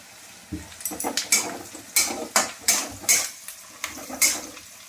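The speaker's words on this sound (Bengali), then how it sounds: "আমি এখানে পেঁয়াজটা ভালো করে ভেজে নিচ্ছি, এটা একটু ভালো করে ভাজি।" Onions frying in a pan in a home kitchen, stirred with a utensil that scrapes and clatters against the pan in an irregular rhythm of sharp knocks over a low background, with no talking.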